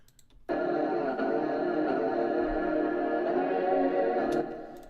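A sustained synthesized tone starts abruptly and holds for several seconds, thickened by a shimmering chorus and spacious reverb, then fades into a short tail.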